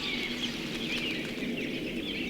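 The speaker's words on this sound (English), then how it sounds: "And the birds start singing. You can start hearing them." Birds sing outdoors at golden hour, a dense steady chorus of chirps and calls at moderate distance, continuous with no talk.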